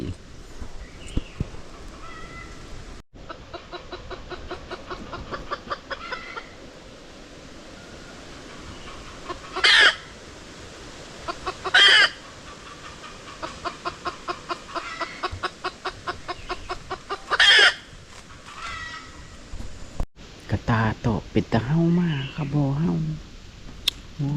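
Chickens cluck in a rhythmic series of short calls on a trip up into the forest, with several louder sharp bursts that could be a rooster crowing, and a voice speaks near the end.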